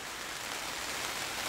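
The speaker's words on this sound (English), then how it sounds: "so now we're hearing a rain" Rain falls on a greenhouse at an aquaponic garden, a steady even hiss of dense drops with no breaks, moderately loud and close, nobody talking.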